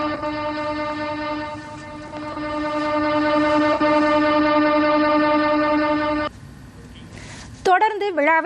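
A train on the Palakkad–Pollachi rail line sounds a long, loud, steady horn for several seconds, then rumbles on with a shorter high horn blast at the end.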